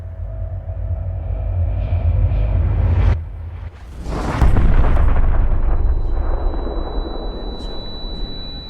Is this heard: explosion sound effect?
yes